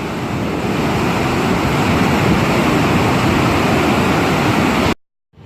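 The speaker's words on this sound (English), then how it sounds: "Just huge for the rushing of the water." Water rushing over the spillway of Fontana Dam, a loud, steady, roaring wash that fills the air without a break, then cuts off abruptly near the end.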